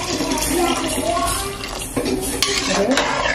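Water splashes and trickles into a pot of chicken for biryani over kitchen clatter, a steady wet pour with metal utensils clinking nearby.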